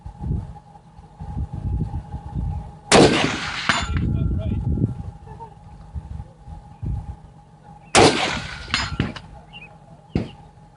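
Rifle shots from an AR10 and an AR15 fired at a steel gong target outdoors: a few sharp, loud cracks spaced several seconds apart, each with a short ringing tail, over a low steady background rumble.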